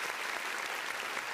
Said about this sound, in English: We also want to give a round of applause to Michelle Lucas